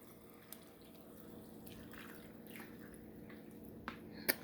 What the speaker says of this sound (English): we're just adding the water